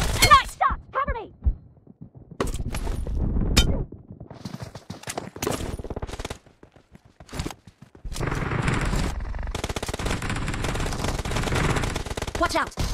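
Gunfire in a PUBG mobile team deathmatch on Android, with bursts of automatic fire and single shots in uneven clusters, broken by short pauses and a dense sustained stretch near the end, under game voice callouts.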